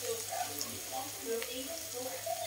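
Food sizzles steadily in a pan, a soft continuous frying hiss with faint bubbling pops, moderately quiet and alone.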